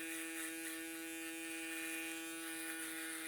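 A steady high electric buzz from a hair trimmer or foil shaver during a fade haircut, constant and close with a strong humming tone, running alone without pause.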